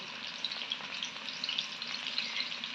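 Oil sizzling steadily in a hot pan while fish curry is being prepared, a dense continuous crackle with small pops scattered throughout, close and fairly loud, with no talking.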